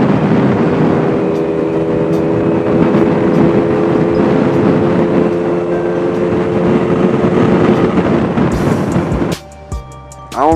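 A Bintelli Breeze 50cc scooter cruises along on the road, its engine a steady close drone mixed with wind rumble for about nine seconds before a sudden clatter of handling noises at the end.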